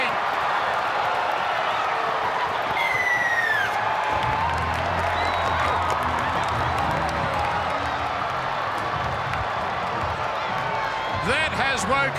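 A rugby league stadium crowd roars and cheers after a try in an NRL Round 1 match between Cronulla Sutherland Sharks and South Sydney Rabbitohs, a dense, sustained wash of distant voices with whoops throughout.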